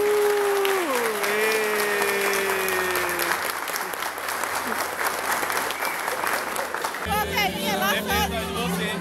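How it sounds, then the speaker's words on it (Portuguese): Wedding guests at a church ceremony break into loud, sustained clapping that continues throughout, with cheers, a whoop and crowd chatter mixed in, and a burst of livelier noise near the end. "nós damos uma grande salva de palmas"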